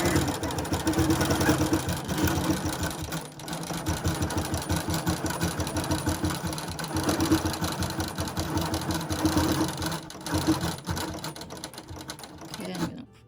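A sewing machine quilts a log cabin quilt, running in a fast, even mechanical chatter of needle strokes up close, with brief pauses and slowdowns along the way.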